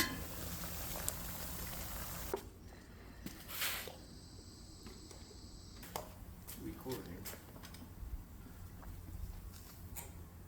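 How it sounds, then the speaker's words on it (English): Canning jars boil in a water bath canner, giving a steady, low bubbling and rolling churn that continues through the whole stretch with small shifts in intensity. "They go in for about 10-15 minutes, water bath can."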